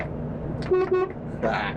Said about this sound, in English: I'll do the air horn, are you ready?